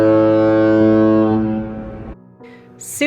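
The Cunard Queen Elizabeth cruise ship sounds its deep horn at sail away from Vancouver, one long loud blast that fades, followed by a quieter tail with faint ambient noise.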